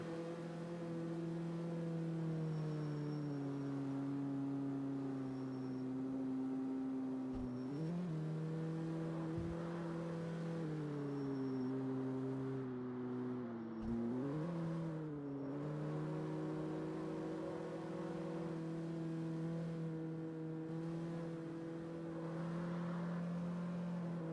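Street-racing cars in CarX Street blaring along a freeway, a steady loud engine drone holding pitch with a few brief revs and shifts, constant and close throughout with no talking.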